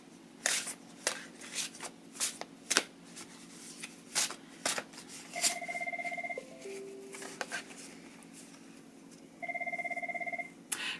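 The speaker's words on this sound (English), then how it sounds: "shuffle these up just a little bit more" A deck of cards shuffled during a game in a run of sharp, crisp riffles and snaps, interrupted twice by a steady electronic two-tone ringing that starts and stops abruptly.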